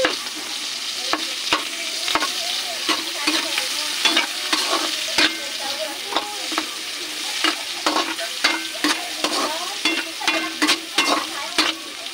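Green beans and meat fry in hot oil for adobong sitaw, a loud, close, continuous sizzle broken by sharp crackling spatters and the scrape of a stirring utensil against the pan.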